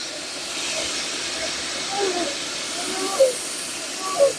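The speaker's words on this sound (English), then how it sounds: "Proper steam train." Hercules, a heritage steam train, hisses steadily with a broad, continuous rush of escaping steam, close by on a station platform, with a couple of faint louder puffs near the end.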